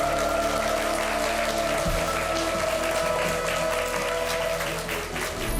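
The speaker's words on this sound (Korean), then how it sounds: "뜨거운 박수로 맞아주시죠." An auditorium audience applauds warmly to welcome an architecture professor to the stage, a steady, even wash of many clapping hands held at a moderate level throughout.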